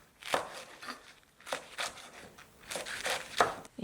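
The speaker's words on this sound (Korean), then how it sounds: "샐러드 채소도 썰어줄게요." Salad vegetables chopped with a knife on a board for a home-cooked sandwich, a series of close, crisp cuts in irregular bursts with short pauses between them.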